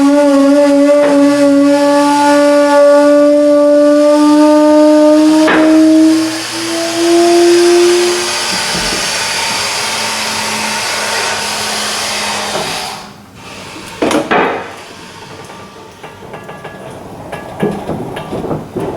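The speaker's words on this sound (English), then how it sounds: "now to lower this down, push the air valve, and that will actuate the air cylinder on the lift" Pneumatic scissor car lift lowering as its air valve is pushed, a loud steady hiss with tonal whine that drops in pitch, then cuts off, followed by scattered clanks and knocks.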